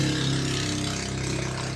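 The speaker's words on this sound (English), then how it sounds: "I don't know if you guys can hear the amount of motorcycles driving by" Motor vehicles passing outside, likely motorcycles, heard as a loud, steady engine drone with a mid-low hum that swells slightly as they go by, with no voices.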